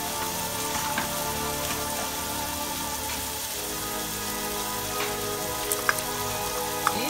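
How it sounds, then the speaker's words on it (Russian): Steady crackling sizzle of ground meat frying in a pan, continuous and fairly close, with a couple of faint clicks near the end. "Вместе мясо будем жарить обратно."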